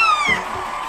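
A single drawn-out meow, high and wavering, close and clear, sounding like a person imitating a cat.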